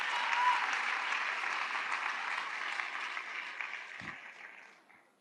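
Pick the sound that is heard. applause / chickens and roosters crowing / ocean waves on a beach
applause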